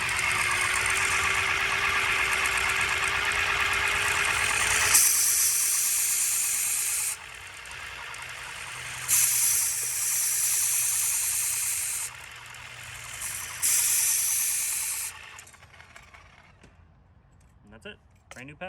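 A buffer polisher spins a wool pad used for boat polishing, its steady motor whine running loud and close with a sustained hum, then cutting in and out in bursts before stopping near the end.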